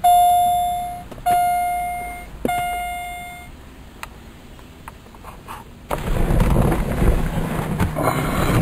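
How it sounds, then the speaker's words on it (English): A 1991 Cadillac Fleetwood Brougham's warning chime rings three times in clear, evenly spaced tones, then fades out, followed by rustling and muffled background noise. "Has a nice chime."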